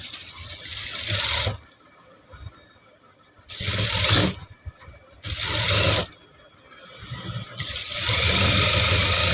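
A sewing machine stitches the neck lining of a blouse in three or four loud bursts of fast mechanical whirring, separated by short quiet pauses, with the last run lasting longest.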